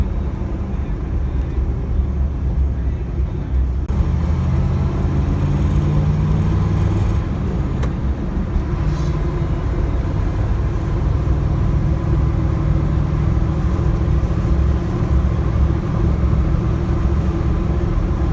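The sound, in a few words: 1976 Ford Bronco running on the road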